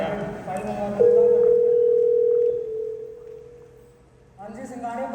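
A steady electronic telephone tone sounds while a call is placed, holding level for a moment and then fading away, with voices talking before and after it.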